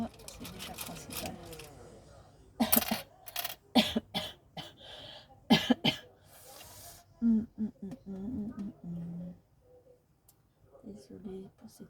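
A woman coughs a few times close by during a quiet craft session assembling a wedding album page. Short harsh bursts stand out against near silence, mixed with light handling clicks and some soft speech.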